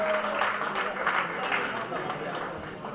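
An audience at a trophy ceremony claps for the winners of a men's fourth-series event: steady, moderately loud applause that fills the short moment evenly.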